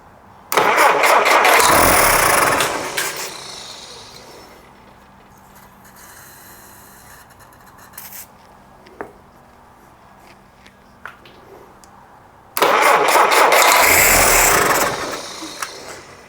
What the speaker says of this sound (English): I'm super happy that it runs as long as I'm spraying starting fluid in there